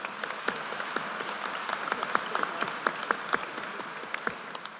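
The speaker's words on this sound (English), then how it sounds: "We'll applaud for that one, too." Steady audience applause at a spring undergraduate university commencement ceremony, a dense wash of many hands clapping from a large crowd at moderate volume, with no speech over it.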